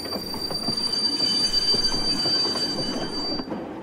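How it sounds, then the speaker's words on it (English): Train brakes in a video game squeal in a sustained high metallic screech over a steady rumbling of rolling wheels. "Should we try to pull the brakes in this engine?"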